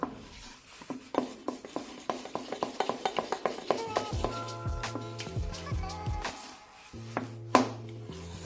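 Spoon scraping and tapping against a pan while cooked jaggery syrup is stirred off the heat, a run of sharp, irregular knocks growing denser, followed by clattering and ringing metallic contact near the end.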